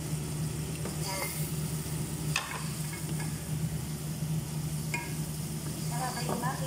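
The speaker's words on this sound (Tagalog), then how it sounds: "Dagdag natin ang ating chicken." Chicken pieces sizzle in a pan with softened tomatoes as a spoon stirs them, the steady frying hiss under occasional scraping clinks, with a low steady hum behind.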